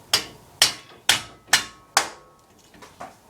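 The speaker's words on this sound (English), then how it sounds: "Pound out the last part right here." A hammer strikes a Jeep Wrangler axle shift collar five times in a steady rhythm, each a sharp close metallic blow, followed by a couple of lighter taps.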